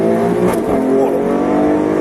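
Alfa Romeo Stelvio Quadrifoglio, the 510 hp SUV fitted with an Akrapovic exhaust, revs hard from inside the cabin, a loud rising engine roar with a sharp crackle partway through.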